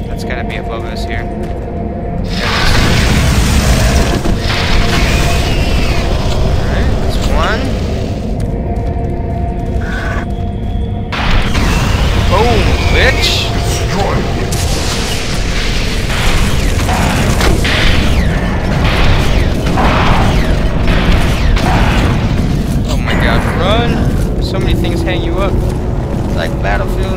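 Rocket launcher explosions in the video game Doom 3 BFG: loud, booming blasts erupt over a constant rumbling roar, with bursts hitting at intervals while someone talks over the action.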